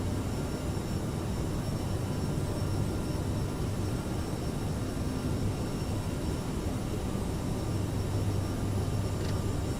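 Aerosoft CRJ jet engines in a climb in Microsoft Flight Simulator, a steady, broad roar with a low rumble and faint high whine, continuous and even throughout with no talk.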